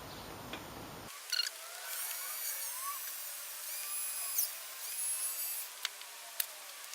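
A drill bit cuts into plastic for a ukulele bridge, giving a faint, steady high whine with small squeaks and clicks that runs for several seconds after a brief start.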